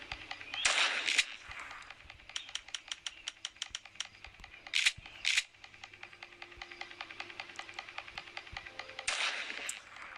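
Rapid gunfire in the horror video game Granny 2, with quick strings of sharp clicky shots and a few louder bursts, fairly faint and close, without speech.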